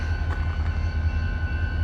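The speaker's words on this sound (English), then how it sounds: "Check out the train, y'all." A small train stopped at the station in Ardmore, Oklahoma, giving off a steady low rumble with a faint tonal hum, close and continuous, with no voices.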